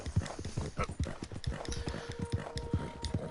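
Horse hooves clip-clopping in a steady galloping rhythm in Red Dead Redemption 2, close and fairly loud, with a faint sustained tone behind.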